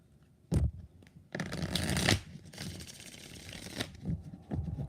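Tarot cards are shuffled in several quick riffling bursts, close and crisp. Short pauses separate the rustling runs.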